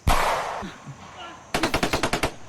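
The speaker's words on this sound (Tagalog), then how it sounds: "Grabe yung putukan guys." Heavy gunfire in a video game: a loud blast that fades, then a rapid burst of about nine automatic shots in quick, even succession, with voices present.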